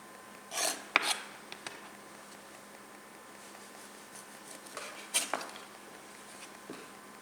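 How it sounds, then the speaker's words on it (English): A knife trimming a dry-aged beef rump, quiet close rasping strokes and scrapes in two short clusters, with faint knocks between them, no talk. "For the trimming, I'm going to use a slightly smaller knife than the cutting of the whole rump."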